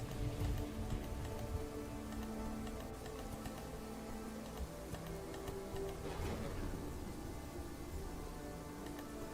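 Steady rain falls in the Kingdoms and Castles city-building game, a continuous dense patter of drops that fills the whole stretch at an even, moderate level with no talk over it.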